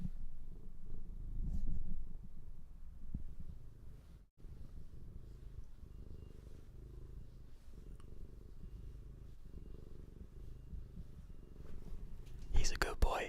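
A cat purrs close to the microphone, a soft continuous low rumble running steadily through the whole stretch, with a brief louder rustle near the end.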